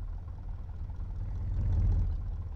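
A vehicle engine idles in an Android road-driving game, a steady low rumble that swells slightly toward the middle, with no voices over it.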